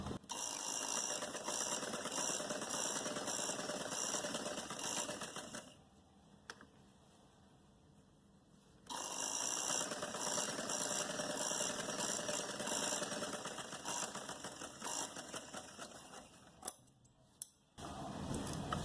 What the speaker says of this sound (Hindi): अब इसको हम यहाँ से इस तरीके से सिलाई करेंगे, क्योंकि लेस चौड़ी है इसलिए डबल सिलाई ज़रूरी है।